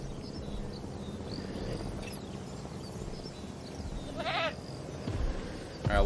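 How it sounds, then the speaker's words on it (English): A goat bleats in the Jurassic World Evolution game, giving a short, fairly clear bleat over a low, busy ambient rumble of the park, with faint rustling and no talking. "Oh, there's a goat right there anyway."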